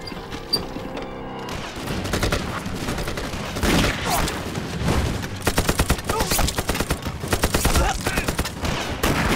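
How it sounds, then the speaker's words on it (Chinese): Heavy gunfire fills a film scene of bandits blowing up a bridge and ambushing a train, with rapid volleys and bursts of rifle shots over a loud, busy background. The shots come in dense, irregular clusters that sharpen into quick repeated cracks later. "现在横道河口车站能听到枪声一片"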